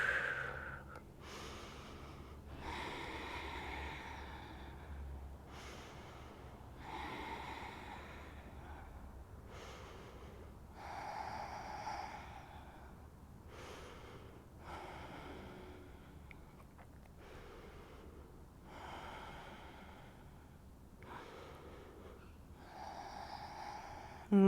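Slow, deep breathing during a chill vinyasa yoga practice, with long rhythmic inhales and exhales repeating about every two to three seconds, close and soft with no talking.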